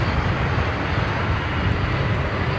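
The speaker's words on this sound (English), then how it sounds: "Is this beautiful A220, Swiss A220, Airbus A220." Swiss Airbus A220 airliner passing as a steady, broad jet-engine roar, loud and continuous with no breaks and no talk.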